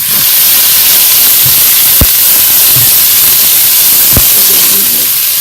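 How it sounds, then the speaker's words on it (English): Onions sizzling loudly in hot oil with cinnamon and black cardamom for Punjabi chicken pulao, a steady broad hiss throughout with two brief sharp pops. "So now I'm going to add the onions."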